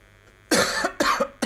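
A man coughs twice in quick succession, close and fairly loud, during commentary on a 1980 football match between Nottingham Forest and Dynamo Berlin.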